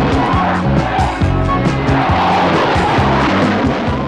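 Tornado jet with variable-geometry wings and reheated turbofan engines at an air show: loud, continuous roaring engine noise with pulsing low tones and broadband rush throughout.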